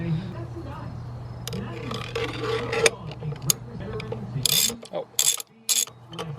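Ratchet clicking and metallic mechanism sounds while removing bolts from a Volkswagen Golf R transmission, a bursty rhythm of short clicks and scrapes close by, with a voice briefly heard.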